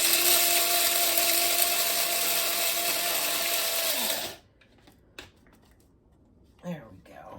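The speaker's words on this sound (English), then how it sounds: "this way you have fresh ground pepper, but you don't have to sit there and crank it" An electric grinder whirs steadily as it grinds peppercorns for fresh ground pepper in a home kitchen, loud and close for about four seconds before cutting off, followed by quiet with a few faint knocks and rustles.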